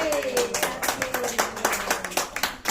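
A group claps in an irregular, rhythmic patter of sharp hand strikes at close range during an event, with voices talking and calling out over the clapping.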